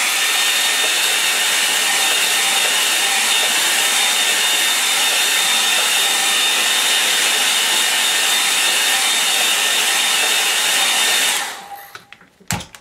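A hair dryer blows steadily on a wet autumn-colours painting, a loud, continuous whooshing roar with a faint whine that runs for about eleven seconds before cutting off abruptly, followed by a few small clicks and handling noises.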